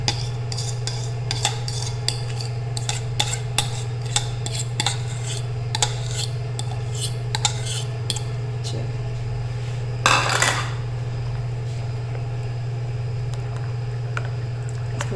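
A spoon scrapes and clinks against a bowl while mashed eggplant raita is stirred, a long run of quick close metallic taps and scrapes over a steady low hum, with one brief louder rub near the end.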